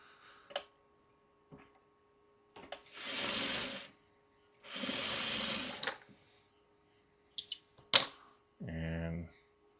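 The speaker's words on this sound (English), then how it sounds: "let me sew this on real quickly" Sewing machine running two steady bursts of a few seconds each to stitch a quilt four-patch seam, close and clear, with scattered clicks and a brief voice near the end.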